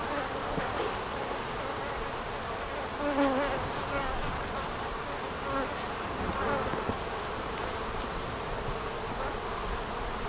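Dense, steady buzzing of many honeybees swarming around a hive frame lifted out during an inspection, a close and continuous hum with brief louder passes of individual bees and no talking.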